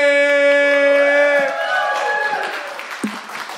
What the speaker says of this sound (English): please, one round of applause for Mr. Elvis Presley!